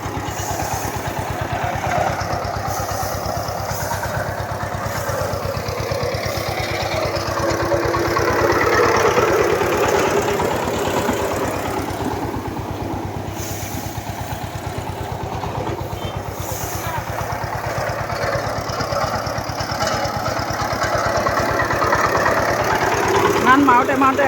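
A tractor engine runs steadily in a village setting in Assam during rice threshing, a continuous mid-pitched drone that holds for the whole stretch while voices talk over it.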